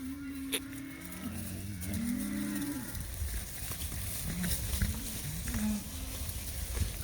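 Cattle moo and bawl on a farm, several deep, drawn-out calls overlapping near the start, then shorter scattered lows amid rumbling movement and background noise.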